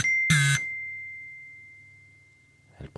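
An email notification chime on a phone sounds once: a bright ding near the start whose clear tone rings on and slowly fades into quiet, followed by a faint rustle at the end.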